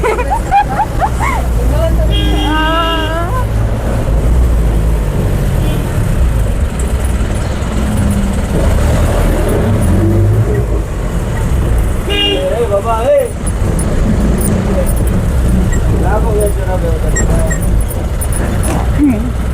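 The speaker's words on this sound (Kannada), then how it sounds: "ಎಕ್ಸ್ಪ್ರೆಸ್ ಗಾಡಿ" Road traffic rolls past an express vehicle, with a steady engine rumble, several car horn toots, and people chattering over the noise.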